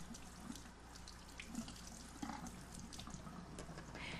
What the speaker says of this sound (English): Then rinse the brush and remove any lint from the brush tufts.